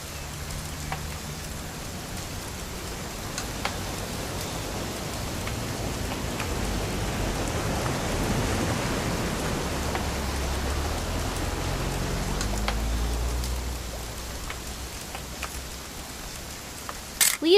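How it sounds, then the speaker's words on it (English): Steady rain falling in the video game What Remains of Edith Finch, a soft even hiss of drops running at an unchanging level for the whole stretch, with a few faint clicks and no speech. "It's gonna rain the whole weekend, isn't it?"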